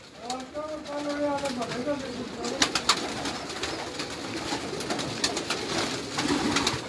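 Flocks of pigeons, including Puri, Banke, Rampuri and Kalpote birds, coo on a crowded Karachi rooftop in a few soft, wavering calls early on, amid a busy background and occasional sharp clicks and knocks.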